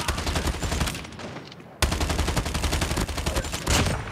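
Rapid automatic fire from the HG-40 gun in a video game rattles in two sustained bursts split by a brief pause, loud and close, with dense evenly spaced shots.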